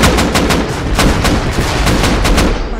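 Heavy automatic gunfire is aimed at a helicopter in the survival video game Rust, a loud, rapid, evenly spaced string of close shots running without a break.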